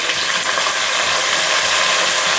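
Fenugreek leaves with ginger paste frying in hot oil in a pan, a steady close sizzle and crackle that runs without a break and holds the same level throughout.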